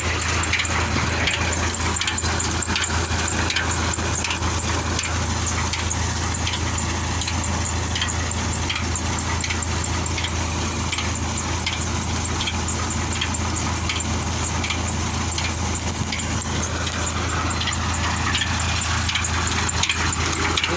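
A tractor engine drives a borewell pump on a farm, a loud, steady mechanical drone that runs unbroken for about twenty seconds, close by with no talking.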